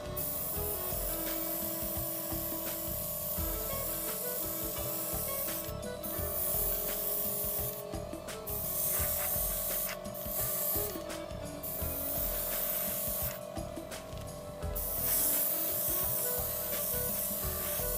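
Chipping fluid is sprayed onto metal in several short, hissing bursts spaced a few seconds apart over a quiet steady background hum, close and fairly soft.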